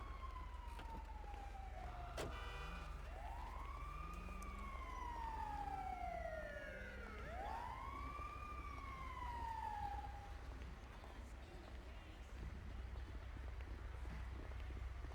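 Wailing ambulance siren in the police-mod video game GTA 5, rising and falling sweeps that swoop through several cycles over a steady low rumble, loud and close without speech.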